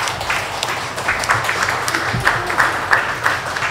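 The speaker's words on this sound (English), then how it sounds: "So rounds of applause, please, when we give them to them." A church congregation claps during a morning worship service as certificates are handed to recipients, a moderate, uneven patter of hands with louder individual claps standing out and a faint voice briefly underneath.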